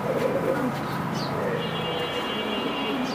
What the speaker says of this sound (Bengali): এটা হলো মাদি কবুতরটা